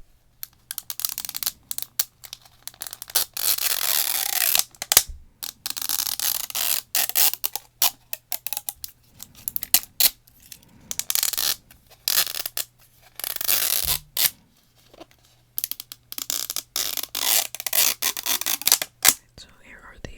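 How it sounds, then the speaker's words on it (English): Close, continuous crinkling and tearing of wrapping as Miniverse Diner surprise balls are unwrapped, with rustling and small creaks in irregular bursts and quiet whispering at times. "So here are the 2 surprise balls now unwrapped."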